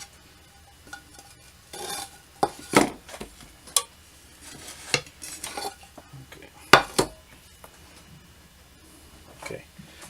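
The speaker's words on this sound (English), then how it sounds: "we will cut these little pieces into chunks" Utensils scrape and tap against a plate as fried funnel cake is cut into chunks, giving a series of irregular clinks and knocks with quiet gaps between them.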